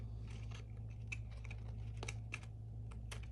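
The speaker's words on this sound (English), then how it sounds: "you can just clip the edges with scissors to round them off" Scissors snip around the edges of a toilet-paper cardboard core, several small sharp clicks and cuts spaced unevenly over a low steady hum, with no one talking.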